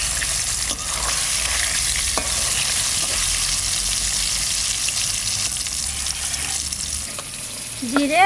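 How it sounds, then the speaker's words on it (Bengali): Pieces of black carp tail frying in hot oil in a kadai wok during village-style home cooking, a steady close sizzle that runs throughout, with a faint clink near the end. "মাছ ভাজবো, কড়াই গরম হয়ে গেছে,"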